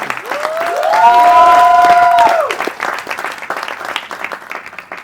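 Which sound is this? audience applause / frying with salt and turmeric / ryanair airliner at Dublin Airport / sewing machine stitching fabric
audience applause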